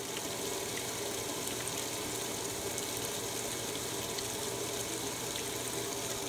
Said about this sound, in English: I'm gonna get this wash started.